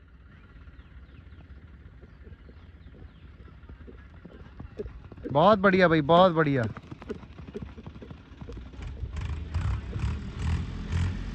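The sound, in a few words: horse hooves clip-clopping during riding practice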